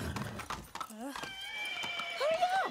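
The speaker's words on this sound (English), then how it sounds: "That's a horse and some paint." A horse neighs in the Far Cry 6 video game, a wavering whinny that rises and falls over about two seconds, preceded by hoof clip-clops and a short snort, close and clear.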